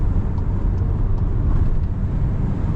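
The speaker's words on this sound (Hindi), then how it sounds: "देखो विंड नॉइज अच्छी खासी है एट 143।" A VW Tiguan 2.0 Elegance 2024 cruising at 143 km/h, steady broadband wind roar and road rumble heard from inside the cabin, continuous and even with no engine note standing out.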